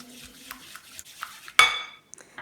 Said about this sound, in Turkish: Daha sonra tel çırpıcıyla birazcık çırpıyorum